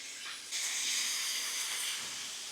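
Ground beef browning in a hot pan, a steady close sizzling hiss that swells loudly about half a second in and holds with little variation, no talking.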